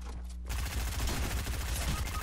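Gunfire in a Fortnite match, where a pump shotgun is in use, heard as a loud, rough burst of shots that starts after a half-second lull and keeps going to the end.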